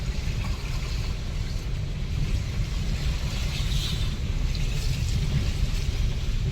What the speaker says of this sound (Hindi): फर्स्ट गियर पे गाड़ी दबा के लेके आ जाइए, ये क्रॉस हो जाएगा